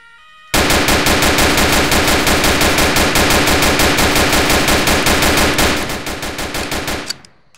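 A rapid, unbroken burst of automatic gunfire in a video game, loud and close, runs for about six seconds at a steady rhythm before tapering off near the end.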